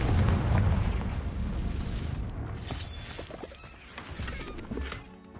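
A Confringo fire spell in Hogwarts Legacy bursts with a deep, rumbling explosion, loud at first and then rolling off into crackling debris and lingering low rumble.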